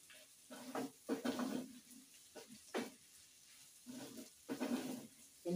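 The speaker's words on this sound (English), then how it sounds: "Just keep on stirring until the onions cook and matumbo turns." Onions and matumbo (tripe) dry-frying in a pan, a spoon scraping and stirring in several rhythmic bursts over a soft sizzle, close by and fairly quiet.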